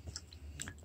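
A two-year-old chews dried persimmon close to the mic, with faint soft, wet bites and smacking clicks over a low background hum.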